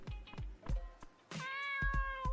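A cat in the Dave the Diver video game meows repeatedly, several short mews followed by one longer, drawn-out meow, close and clear with no talk.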